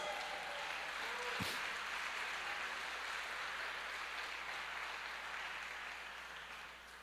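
A church congregation applauds Jesus with a soft, even wash of clapping heard from a distance, fading gradually near the end.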